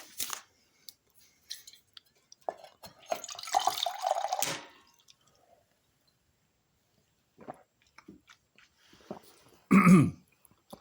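Water poured from a tap for a drink, a brief running splash mid-way, then quiet gaps with small clicks, and a throat-clearing gulp or cough near the end, close to the microphone.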